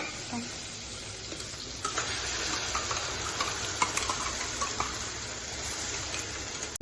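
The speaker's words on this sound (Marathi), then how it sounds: "हे मी मिसळ बनवण्यासाठी वाटून घेतलं आहे, ते मी आता याच्यात टाकणार आहे कढईत।" Ground masala paste for misal hits hot oil in a kadhai, giving a continuous near sizzle with scraping stirring strokes layered over it.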